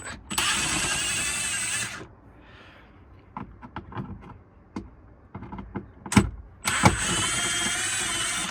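A power drill whines in two long bursts removing screws while replacing the blower fan in a Kenworth T680 truck, with clicks and clanks of metal parts and small tool knocks in between.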